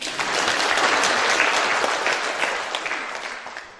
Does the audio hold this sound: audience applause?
yes